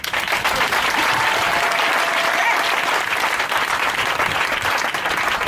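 A church congregation applauds at a Sunday service, steady, dense clapping filling the room without a break, a few voices mixed in underneath.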